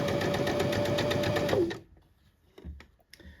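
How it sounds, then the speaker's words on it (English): A sewing machine stitches along the twice-folded waist edge of a shirred skirt. It whirs rapidly and steadily up close for about a second and a half, then stops, leaving faint handling noises. "It's just fold it over twice and then I'm sewing it."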